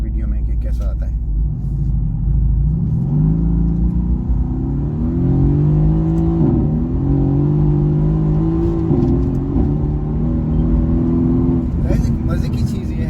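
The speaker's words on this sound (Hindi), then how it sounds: "इसके जो एग्जॉस्ट का साउंड है वो भी आप सुनने की कोशिश करें वीडियो में कि कैसा आता है।" Mercedes-Benz AMG GT-S exhaust in sports mode under acceleration, a loud deep rumble with rising and falling engine tones across repeated pulls, heard close with people talking over it.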